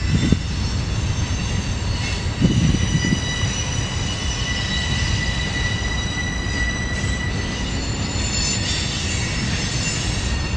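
Amtrak's Southwest Chief passenger train pulling into the Galesburg, Illinois station, a loud steady rumble of rolling cars with high metallic wheel squeal and ringing tones throughout, heard up close.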